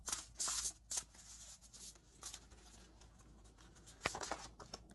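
Oracle cards being handled and shuffled during a tarot reading, giving soft, close papery flicks and slides in short irregular bursts with quiet gaps between them.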